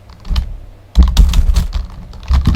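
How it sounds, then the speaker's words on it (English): Close, busy clatter of computer keys in quick irregular bursts, with a brief lull before the typing picks up again. "just typing with one hand"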